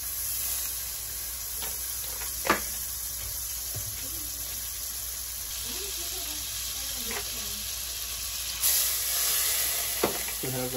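Butter sizzles steadily in a pan as the base for an Alfredo sauce, a soft continuous crackle with a few sharp utensil clinks over it and some faint talk.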